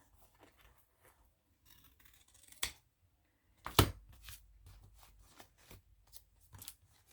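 Scissors snip through a page cut from a book for a collage, a few quiet, scattered cuts with a couple of sharper louder snips near the middle, set against near silence.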